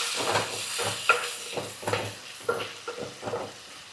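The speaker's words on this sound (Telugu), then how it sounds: "అయితే ఇది కొంచెం ఫ్రై అవ్వాలి పుదీనా." Mint leaves and onions fry in a pan with a soft, continuous sizzle. Repeated scraping stirs of a utensil against the pan come in an uneven rhythm, close but fairly quiet.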